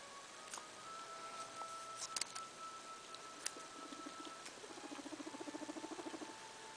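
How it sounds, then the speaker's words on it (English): Guinea pigs, a female Abyssinian and a long-haired silky, shuffle and scurry in their cage, with light patter and a run of quick rhythmic scratchy ticks toward the end, close and moderately quiet. "So here's my guinea pigs."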